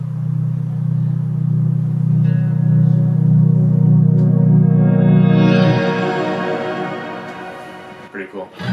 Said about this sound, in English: That's just the same note, reversed with a lot of reverb.